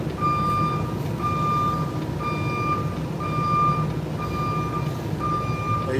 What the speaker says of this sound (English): I got a backup beeper.